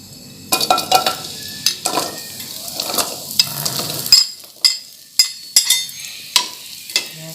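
Shallots, garlic and large red chilies hit hot oil in a pan with a steady sizzle, followed by sharp scraping and clinking stirs of a utensil against the pan, repeated in an uneven rhythm.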